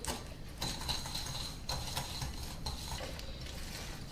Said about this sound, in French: je vais y ajouter mon sucre roux et je vais mélanger le tout au fouet